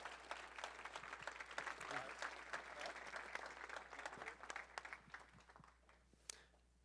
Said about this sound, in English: let's give a big round of applause for Gary Harper.